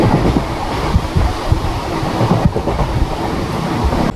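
Local passenger train running through the night, a continuous loud rumble and rattle of wagons on the rails with steady clatter and no pauses.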